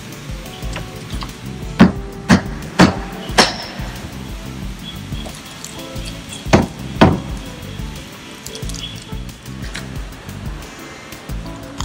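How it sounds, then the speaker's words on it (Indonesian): Hammer blows knock open a wooden shipping crate holding a BMW R nineT motorcycle, a few sharp wooden strikes in two short clusters over a steady background hiss. "Pakai palu unboxingnya."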